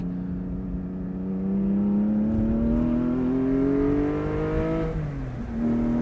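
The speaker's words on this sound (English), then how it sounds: "Gosh, the exhaust sounds beautiful." A sports car's exhaust roars steadily as the engine revs climb through a long pull, then dips briefly as it shifts and picks up again, loud and close.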